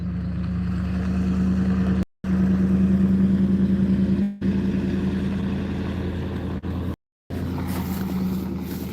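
An old Ford car driven by a neighbour passing close by, a steady, loud engine drone with a low hum holding for several seconds, broken by short gaps.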